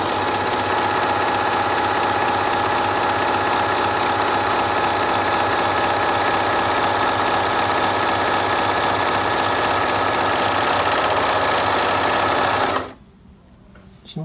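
Tugi MK1881 overlock sewing machine running steadily while stitching a four-thread overlock seam, a loud continuous mechanical whir for about thirteen seconds that then stops abruptly.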